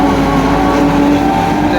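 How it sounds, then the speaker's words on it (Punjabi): A tractor-mounted silage machine runs nearby with a loud, steady mechanical drone, an unbroken engine roar that holds level across the short stretch. "ਇਹ ਜਿਹੜੀ ਮਸ਼ੀਨ ਚੱਲਦੀ ਪਈ ਹੈ ਇਹ ਟਰੈਕਟਰ ਤੇ"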